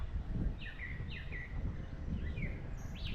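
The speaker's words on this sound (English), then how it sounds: "Brown thrasher calling in the background there." A brown thrasher calls from the background, giving a few short, bright, chirping phrases in loose succession over a low murmur of outdoor ambience.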